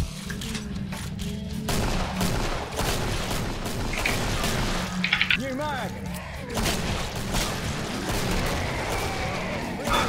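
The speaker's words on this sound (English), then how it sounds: "the shotguns are really working nicely here" Shotgun fire in the co-op zombie shooter Killing Floor during a tournament match, repeated booming blasts mixed with game clatter and creature noises under continuous commentator talk.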